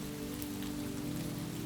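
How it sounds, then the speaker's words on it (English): Rain patters steadily on a surface along a rainy coastline, a soft, even wash of drops close by with a low droning hum underneath and no voices. "the patter of rain"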